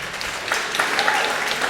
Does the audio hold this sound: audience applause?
yes